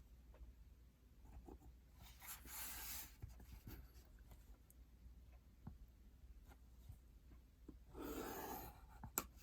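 A pen marking measurements on origami paper, faint scratchy strokes in short bursts with soft rubbing, quiet and close in a still room.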